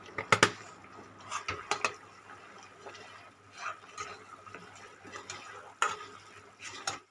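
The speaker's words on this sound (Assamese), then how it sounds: "মই 5 মিনিট ফ্ৰাই কৰি ল'লোঁ।" Hilsa fish frying with turmeric in a pan over high flame, with a soft steady sizzle broken by several sharp clinks and scrapes of a spoon against the pan, close and moderately loud, no talking.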